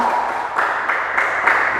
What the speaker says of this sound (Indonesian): Mari kita berikan tepuk tangan semuanya.